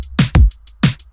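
Synthetic electro pop drum loop with punchy kicks, a snappy clap snare and crisp hi-hats ticking between hits, in a steady programmed pop pattern, loud and dry with no voices.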